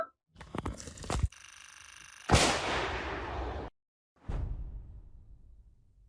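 Ukrainian artillery fires shells at Russian assault troops near a farm in Zaporizhzhia: two booming launches, each with a sharp crack and a long roaring, rolling tail, separated by brief silence, with no talk.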